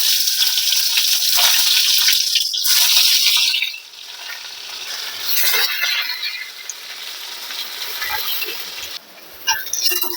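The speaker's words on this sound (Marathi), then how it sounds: "गरम झालं आता एक एक वांग आपण त्याच्यामध्ये सोडून देऊ" Stuffed brinjals drop one by one into hot oil, setting off a loud, broad sizzle that crackles steadily, then eases to a quieter fry with occasional pops and clinks.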